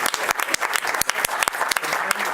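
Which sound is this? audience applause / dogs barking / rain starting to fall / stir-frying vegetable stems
audience applause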